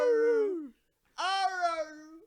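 A person's voice imitates a dog saying "I love you" in two drawn-out, warbling, howl-like vocal phrases separated by a brief pause, close and alone.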